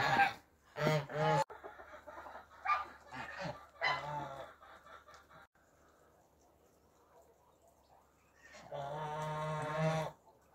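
Farmyard poultry near a snowy yard cluck and squawk loudly in repeated bursts, with a quiet pause before a long, sustained loud call.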